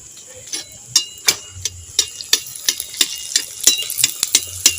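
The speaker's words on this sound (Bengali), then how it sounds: "এবার আমি লুচিটা ভেজে নেব" Semolina luchi frying in hot oil, a light sizzle punctuated by repeated sharp taps and clicks of a utensil against the pan at a fairly regular pace, close and clear with no voices.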